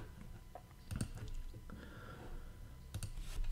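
A few sharp computer mouse clicks, close and crisp, scattered over a few seconds with soft handling noise and faint background shuffling between them.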